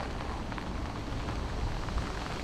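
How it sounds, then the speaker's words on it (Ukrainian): Steady rain falling outdoors by a river, a dense continuous hiss and patter with no breaks, fairly loud and even throughout, with no voices. "І так кожні 5 годин пускається такий дощ і втихає."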